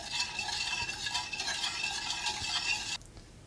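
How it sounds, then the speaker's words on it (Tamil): Milk being stirred into a white sauce in a pan, a fairly quiet continuous sizzle with light scraping strokes, cutting off abruptly near the end and leaving near silence. "இந்த பால் வந்து நல்லா க்ரீமியாக வர வரைக்கும் நம்ம கலந்து விட்டுக்கிட்டே இருக்கணும்"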